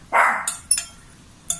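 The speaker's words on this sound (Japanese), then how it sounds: "なんか外で犬が吠えてるみたいでですね" Dog barking outdoors, two or three sharp barks with a short whine-like yelp, fairly loud and near, with no talking.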